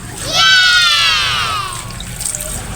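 Salted food being rinsed in water, a close burst of running, splashing water that swells quickly, holds for over a second, then eases into lighter sloshing and dripping.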